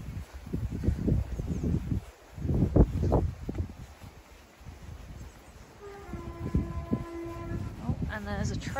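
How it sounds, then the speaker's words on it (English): A train passes in the distance near a farm, heard as a low rumble with a horn sounding toward the end, under wind and rustling with some talk. "Oh, and there's a train coming."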